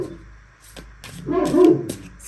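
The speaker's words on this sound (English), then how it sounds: "It's like a muffled bark because I've been trying to correct her." A dog lets out one short, muffled low bark with a whimpering edge, close and moderately loud, set against quiet room background.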